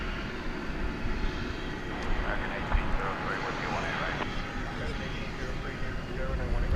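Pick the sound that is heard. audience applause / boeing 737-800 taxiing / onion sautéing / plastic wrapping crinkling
boeing 737-800 taxiing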